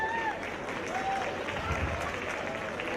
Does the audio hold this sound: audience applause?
yes